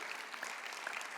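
A church congregation claps for Jesus during a sermon, a short steady patter of many hands at moderate distance with no voices over it.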